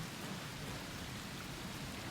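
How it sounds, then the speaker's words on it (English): Steady rain falls as ambience in the video game Arc Raiders, a soft even hiss of drops on surfaces, faint and continuous with no voices. "The rain sounds great"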